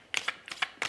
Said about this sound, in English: So now I'm shuffling the Angels Are Everywhere.